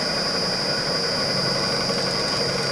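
Wood lathe turning a workpiece between centers at roughly 700 RPM, giving a steady, even mechanical drone with constant hum and no pauses, fairly loud and close.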